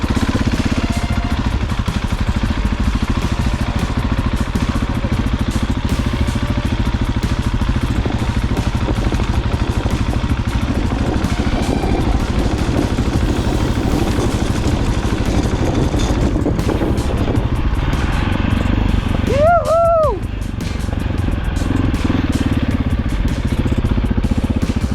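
Enduro motorcycle engine under load while riding on a steep trail, a steady loud droning roar throughout with a brief whining rev near the end.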